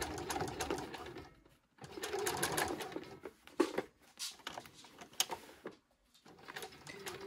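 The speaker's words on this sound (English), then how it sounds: "so now we are just going to top stitch" A sewing machine top-stitches a zip fly in several close, quiet bursts of fast mechanical whirring, separated by short pauses.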